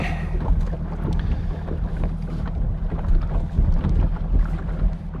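A bass fishing boat cruises across a lake with a steady low engine hum, while gusts of wind buffet the microphone throughout.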